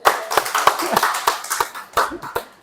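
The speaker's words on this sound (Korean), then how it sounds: "박수" A church congregation claps during a Sunday worship service, a short burst of quick, uneven handclaps close by that fades toward the end.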